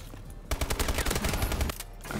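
A thermal MG machine gun in the video game Advanced Warfare fires one loud, rapid burst of about a second, closely spaced shots rattling over a background hum, followed by quiet.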